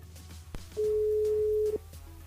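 A telephone line tone sounds during a callback from a radio studio, one steady sustained beep lasting about a second over quiet background hum.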